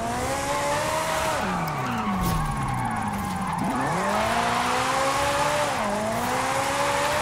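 A 1962 Ferrari 250 GT Berlinetta Lusso drifts in a video game with a tuned all-wheel-drive setup, its engine droning loud and close as the pitch rises and dips through the slides, and tire squeal running over it throughout.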